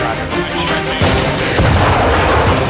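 A loud, dense blast from an explosive charge blowing out a cave wall during a US commando raid, sounding as a sustained rumbling roar that swells again about a second in, with no speech over it.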